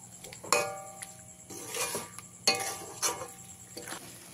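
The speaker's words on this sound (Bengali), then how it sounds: "আলুগুলো দিয়ে মশলার সঙ্গে আমি 1 থেকে 2 মিনিট ভালো করে ভেজে নিয়েছি।" Potatoes frying with spices in a pan for Bengali chicken aloo jhol, heard as intermittent scraping and clanking of a spatula against the pan over a soft sizzle, with sharp metallic knocks near the half-second and 2.5-second marks.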